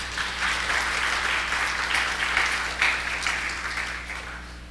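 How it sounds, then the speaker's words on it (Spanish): Church congregation applauding together during a sermon, a steady, dense wash of clapping that holds at full strength for several seconds and tapers slightly at the end. "Démosle un aplauso a Cristo"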